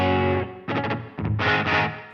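Electric guitar through a hall reverb on a Line 6 Helix LT plays a few short chords and plucked bursts, each followed by a soft, spacious tail.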